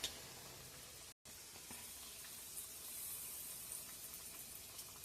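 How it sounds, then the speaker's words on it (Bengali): Radish koftas frying slowly in oil over a lowered gas flame, giving a soft, steady sizzle with a brief gap partway through, faint and close, without any talk. "ওই জন্য গ্যাসের ফ্লেমটা কমিয়ে আস্তে আস্তে কোপ্তাগুলো ভাজতে হবে।"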